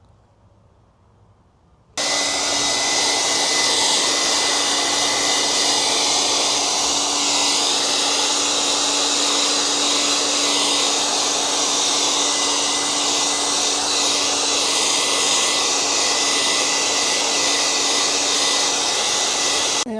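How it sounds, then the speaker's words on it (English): A hair dryer starts up after a quiet moment and blows steadily at a loud, constant roar with a faint whine, running without pause, heating decals on a 2025 Ford F150 Raptor. "I did bust out my wife's hair dryer"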